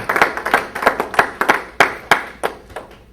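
A church congregation claps in steady rhythm to acclaim the Lord, about a dozen crisp, close hand claps in an even beat with no talking.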